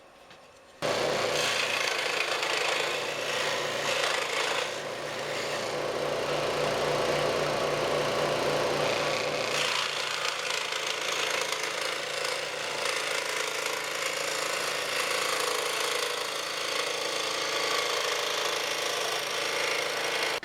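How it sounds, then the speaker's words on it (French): A scroll saw cuts wood for a wooden bagel cutter, running steadily with a dense buzzing, rasping drone, loud and continuous with a slight shift partway through. "je remarque et je découpe à la scie à chantourner."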